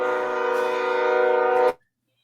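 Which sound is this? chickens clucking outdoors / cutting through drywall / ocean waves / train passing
train passing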